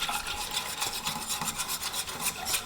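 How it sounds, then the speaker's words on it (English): A whisk scrapes steadily through a roux as milk or half-and-half is stirred in, a soft continuous rasping with a quick repeated rhythm, close and fairly quiet. "make sure you whisk the whole time"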